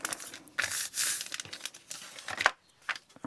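Paper being cut and handled for a daily journaling spread, several short crisp snips and rustles in a quiet room, close and fairly soft.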